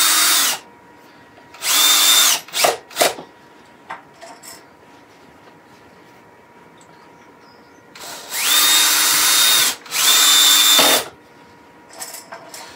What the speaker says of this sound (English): I'm letting the ratchet of the driver just tell me when we've gone far enough